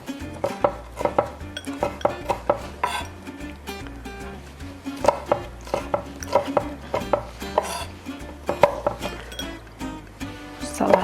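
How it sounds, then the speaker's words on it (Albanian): A knife chops pickled peppers into smaller pieces on a board, in quick irregular bursts of close, crisp taps with clinks of utensils between them; someone speaks at times. "speca turshi, janë gati të prera, po mua më duhen t'i pres pak më të vogla"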